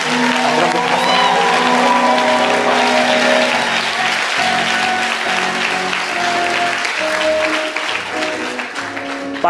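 A church congregation breaking into sustained applause during a sermon, dense and loud clapping filling the room for several seconds, with some voices and shouts mixed in underneath.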